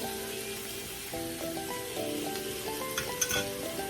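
Shrimp sizzle and crackle steadily in a hot pan while cooking for white wine rasta pasta, with a close, continuous frying hiss and a few louder pops and stirring sounds toward the end.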